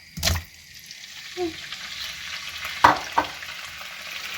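Pork pieces for a gravy hit a hot frying pan, giving a low, even sizzle. Sharp clatters and taps from handling the meat and the pan break through near the start and again around the middle.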